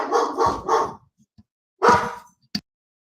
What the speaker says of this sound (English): Sorry, I have barking dogs.